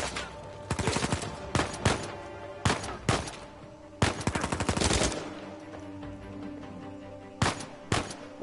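Gunfire in Uncharted 4: A Thief's End crackles in sharp, loud bursts and rapid volleys, spaced irregularly over a low game background, with no voices over it.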